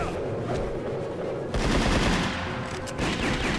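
Rapid machine-gun fire from a cybernetic pirate's head implant in the 1998 Sega Model 2 arcade game Dynamite Cop, a dense continuous burst of gunfire that swells in loudness, steady and close with game noise underneath.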